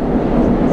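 Subway train running, a steady loud low rumble and rolling roar throughout with no pauses, like riding inside a metro car.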